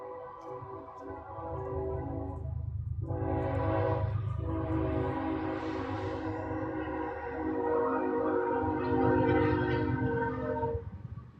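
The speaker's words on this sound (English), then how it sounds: "the train horn pitched downwards" A train horn sounds as the train passes, long sustained harmonic blasts that swell loud and then drop in pitch, with the rumble of the rails underneath and no talking.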